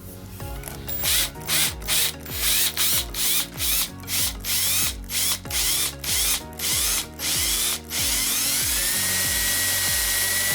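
A power drill bores into a cured resin wall hanging, its motor whirring in about a dozen short, loud, evenly spaced bursts before one longer run at the end.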